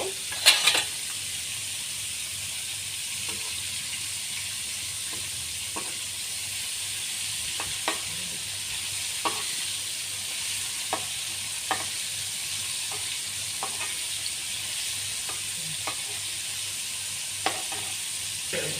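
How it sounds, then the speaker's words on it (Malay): Chicken sizzling and frying in hot oil until crisp and golden, a steady hiss with occasional small pops and utensil clicks, no talking. "yang ni kita goreng dia sampai dia garing."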